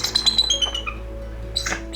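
A snowy owl calls at a wildlife garden with a short run of bright chirping notes, close and fairly loud, then a quiet gap and one more brief burst. No speech.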